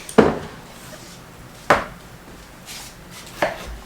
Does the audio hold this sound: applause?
no